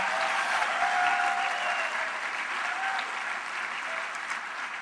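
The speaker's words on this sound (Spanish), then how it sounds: "Dale ese aplauso bien fuerte al Señor." A church congregation claps loudly together in sustained applause, a dense steady patter that swells early and then tapers slightly, with a few voices faintly mixed in.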